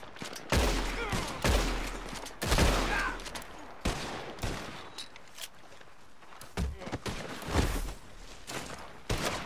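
Gunfire in the Western online game Red Dead Redemption 2 Online: a series of sharp, booming shots at irregular intervals, some close and heavy, others lighter, with thuds and movement between them.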